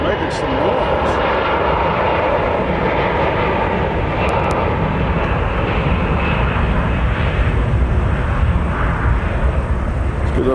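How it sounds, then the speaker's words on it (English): An American Airlines A321 jet roars steadily during takeoff at Nashville International Airport, a loud, continuous broadband engine rumble heard close by for the whole stretch, with a voice faintly present under it. "we're waiting for this American Airlines A321 headed to DFW"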